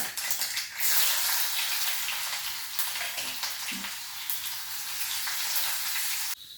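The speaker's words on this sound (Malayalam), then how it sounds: "നമുക്ക് കുറച്ച് ചെറിയ ഉള്ളി അരിഞ്ഞതും രണ്ട് കറിവേപ്പില രണ്ട് മൂന്നായിട്ട് നുറുക്കിയതാണ് കേട്ടോ" Steady, loud sizzling of chopped shallots and curry leaves frying in hot oil, with a few soft stirring clicks and scrapes, no voices.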